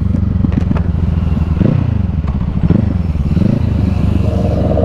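A Kawasaki Eliminator 450 motorcycle fitted with an aftermarket exhaust hums steadily while being ridden, a loud, close engine drone mixed with wind rush and a few light clattering bumps, with no talking.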